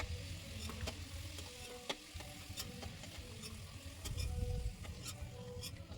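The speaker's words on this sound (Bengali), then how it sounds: "তো আমার আলুগুলো ভাজা হয়ে গেছে" Potato pieces fry in oil for chicken ghugni, giving a soft continuous sizzle with scraping stir sounds and scattered crackles, fairly faint and steady throughout.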